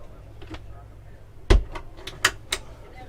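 Sliding cabinet doors on a Shogun 43 yacht knock shut, a sharp thud followed by a couple of lighter clacks, close by with faint talk in the background.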